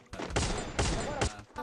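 Gunfire bursts in a Free Fire Max match, three loud clustered volleys in quick succession across a short moment, close and punchy.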